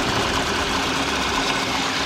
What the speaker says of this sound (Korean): 휘발유 엔진이만큼 차량 엔진 소음 정말 조용하고 정숙한 차량이고요